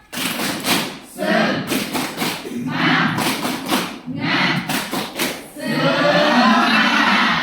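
A classroom of pupils performs the rhythmic tepuk semangat spirit clap, bursts of unison clapping in a patterned beat with shouted chanting between the claps, loud and close.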